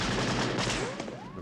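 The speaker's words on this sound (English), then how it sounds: "The actual Indiana Jones gunshot was a .30-30 Winchester rifle that was recorded." A recorded .30-30 Winchester rifle gunshot used for Indiana Jones, a sharp blast trailing into a long rolling echo and ricochet-like whine, loud and alone.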